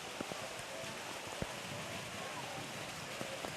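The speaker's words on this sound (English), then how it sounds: "pea-sized hail that's coming down." Rain mixed with pea-sized hail falls steadily on an evening soccer stadium, a soft continuous hiss with scattered faint taps and impacts, heard at a distance.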